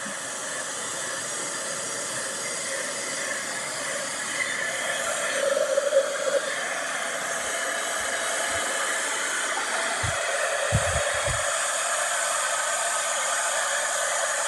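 A heat embossing tool blows hot air steadily across embossing powder on a stamped card, a continuous loud hiss like a hair dryer that runs the whole time, with faint thumps and taps near the end.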